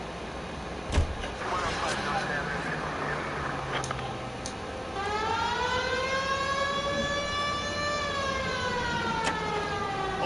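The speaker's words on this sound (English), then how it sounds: "We have a siren." A police car siren from the video game L.A. Noire rises and wails in long sweeping tones under a car's engine drone, with a few knocks early on.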